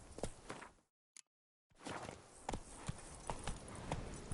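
Hooves of Roach, a horse in The Witcher 3, clip-clopping in a steady walking rhythm close by, broken by a short silent gap before the footfalls resume and continue evenly.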